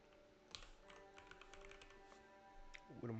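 Quiet clicking on a computer keyboard during a game development session, a loose run of light taps at close range with a brief pause near the end.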